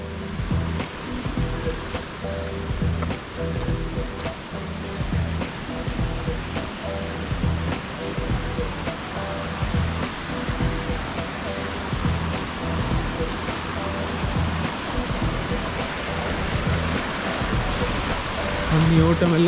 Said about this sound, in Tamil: தண்ணி ஓட்டம் எல்லாம் நல்ல வேகமாக தான் இருக்குது.